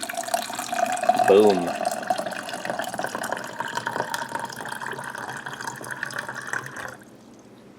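Water streams steadily from a Baby Brezza Instant Warmer into a container, a continuous pouring splash that stops abruptly near the end, with a short spoken word near the start.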